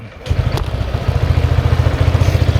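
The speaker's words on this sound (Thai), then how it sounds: "เดี๋ยวเรามาสตาร์ทฟังเสียงของเครื่องยนต์กันเลยดีกว่า" A 2019 Honda PCX 150i scooter engine catches and settles into a fast, steady idle putter, loud and close, with rhythmic pulses continuing evenly.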